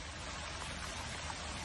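Red wine from a huge 2.2 million liter spill pours and gushes in a continuous rushing stream, a steady, dense watery roar with no break, faint and with no voices.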